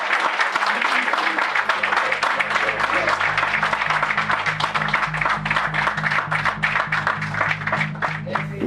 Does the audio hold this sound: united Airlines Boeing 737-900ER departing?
no